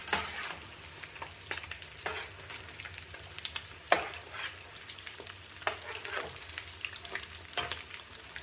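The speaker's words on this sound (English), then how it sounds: "So we are cooking it on a low heat." Kebab meat cooks slowly in a pan on low heat, giving an even, soft sizzle throughout. Frequent small pops and crackles are scattered through it, and there is no speech.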